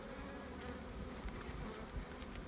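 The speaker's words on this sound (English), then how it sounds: "especially when you have a lot of bees and they're all crowded up" A dense, steady hum of many honeybees crowded together in an open hive during frame work, a continuous close buzzing with no talk.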